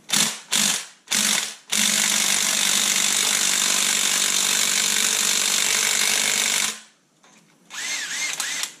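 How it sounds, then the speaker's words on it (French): Impact wrench working on a fork bolt of an MBK 51 moped with Paioli forks: three short rattling bursts, then one long continuous hammering run lasting about five seconds, followed by a pause and another burst. "c'est plus simple d'avoir une clé à choc quand même, parce que des fois, ils sont serrés"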